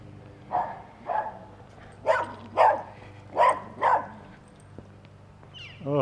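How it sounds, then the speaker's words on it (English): A small dog barks outdoors along a town walking path in Three Forks, Montana, giving six sharp, fairly close barks in loose pairs with short pauses between them. "I'm going to show you this dog here."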